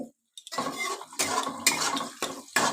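Food being stirred in a pan on a gas stove while paneer is cooked in sauce, with close, continuous scraping and clattering of a utensil against the pan in irregular bursts, no talking.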